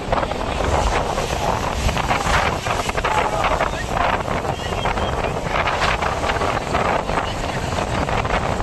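Strong wind on Puri beach buffets the microphone with loud, continuous rumbling gusts, and faint surf sits under the roar.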